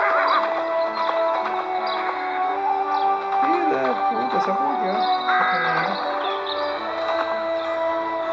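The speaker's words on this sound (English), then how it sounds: "Maravilha, agora tem um cavalo aqui." A video game horse whinnies loudly in a long wavering neigh, with clip-clop hoofbeats and constant game background sound beneath it.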